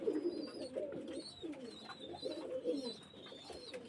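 A pair of 128 teddy breed pigeons coo close by in soft, repeated throaty rolls, with faint chirps above them and no talking.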